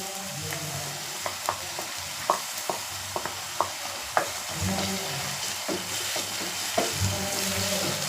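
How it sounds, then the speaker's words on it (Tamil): Onions sautéing with garlic paste over a high flame, a steady sizzle punctuated by irregular spatula taps and scrapes against the pan, no talking. "அடுப்பை ஹை ஃப்ளேமில் தான் வச்சுருக்கேன்। இப்போ அது வெங்காயம் கொஞ்சம் நல்லா வதங்கி வரட்டும்"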